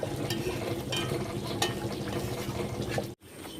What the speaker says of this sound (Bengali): চলো মাংসটা কষানো চলছে আজকে কষাই হবে কোনো জল দেওয়া হবে না